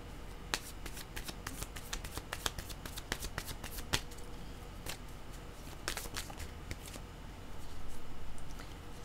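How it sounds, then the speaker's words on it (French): Tarot cards are shuffled by hand in a quiet room, with soft riffling and a string of sharp, irregular card snaps and taps close to the listener over several seconds, and nobody speaking. "Je vais demander une carte noire, on verra bien."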